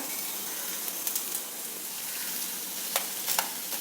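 Garlic and curry leaves sizzle hard in hot oil for a summer fenugreek and onion saaru, a loud, dense, continuous frying hiss with a couple of brief spatters and clicks near the end.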